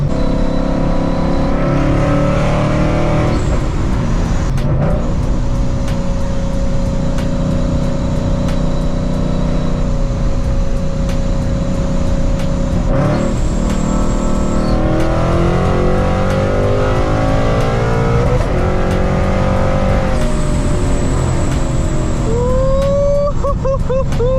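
A Paxton-supercharged S197 Ford Mustang pulls hard through the gears, its engine note climbing and dropping with each shift, loud and close from inside the car, with a rising supercharger whine toward the end.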